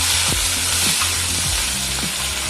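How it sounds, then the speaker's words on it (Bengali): Onion frying in hot oil with dried red chillies and bay leaf, a dense steady sizzle with a few soft stirring scrapes, close and fairly loud with no voices. "পেঁয়াজটা একটু ভাজা ভাজা হবে।"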